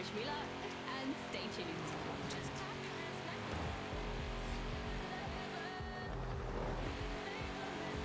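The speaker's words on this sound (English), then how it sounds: "Oh, listen to that tire squeal." Tire squeal from a car in a winter racing video game, a sustained engine drone with screeching tires running under ongoing commentary from a player.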